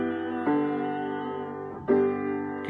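Mandolin notes ring in a sustained tone that steps down a half step to resolve home, close and moderate in level, with a second pick attack near the end.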